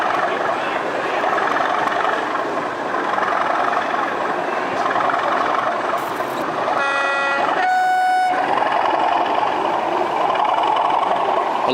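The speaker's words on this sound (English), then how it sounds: "I love the authentically squeaky horn." A model Class 37 locomotive in a railway exhibition hall gives a couple of short, squeaky horn toots over the hum of the crowded room.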